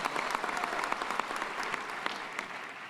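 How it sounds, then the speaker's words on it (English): An audience at a high school graduation ceremony claps steadily for the graduating seniors. The applause is fairly soft and distant, with individual sharp claps poking through the continuous wash. "Let's have a round of applause for our seniors."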